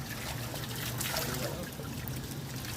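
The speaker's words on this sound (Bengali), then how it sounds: "ও স্নান করছে আর ওকে জল নিয়ে নিয়ে সাপ্লাই করছে।" Water poured out for someone taking a bath, a continuous splashing trickle that runs steadily for a few seconds, fairly close and alone without talk.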